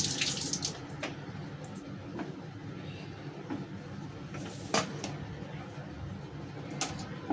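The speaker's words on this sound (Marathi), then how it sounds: "आपण हे कांदे पण धुवून घेऊया." A kitchen tap runs steadily into a sink while onions are washed under it, a close continuous splash with occasional clatter and knocks from handling.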